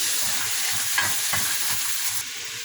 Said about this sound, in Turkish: Böyle pembeleşinceye kadar kavuracağım. Bizi iyi kavurmak lazım.